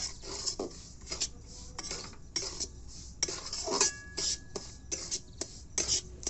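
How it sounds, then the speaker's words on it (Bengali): A metal spoon scrapes and clinks against a pan in quick, irregular strokes as semolina fries in ghee, with a soft frying hiss underneath, close up and without talk. "সুজিটা ভাজা হচ্ছে তেলেতে তেলে নয় সরি ঘিয়েতে ভাজা হচ্ছে"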